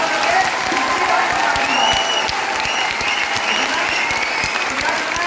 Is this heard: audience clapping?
yes